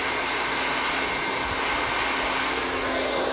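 A hair dryer blows steadily and loudly while drying hair during a blowout, its broad whooshing airflow continuous and close throughout with no talking.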